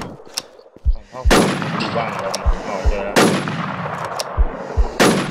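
Gunfire in the online shooter game Infestation: sharp, loud shots in a few bursts across several seconds, each cracking over a busy game background, with a voice briefly heard between shots.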